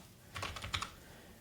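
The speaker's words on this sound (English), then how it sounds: "as you can tell by my typing" A short burst of typing on a computer keyboard, with several close, quick key clicks clustered in under a second before it falls quiet.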